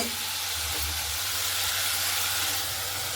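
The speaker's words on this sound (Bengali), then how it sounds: "আমি মশলাটাকে কষতে থাকবো" Spice paste for a fish egg curry sautéing in a pan, giving a steady, even hiss and sizzle from start to finish, close by with no talk.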